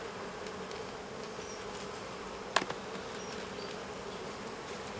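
Honeybees drone steadily around an open hive while a colony is split into an artificial swarm, a close, even buzz filling the whole stretch, with one brief sharp knock partway through.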